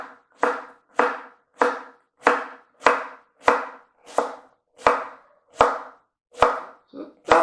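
Knife chopping shallot and garlic on a cutting board: about a dozen crisp, evenly spaced thuds roughly every two-thirds of a second, close and loud, with near silence between strokes.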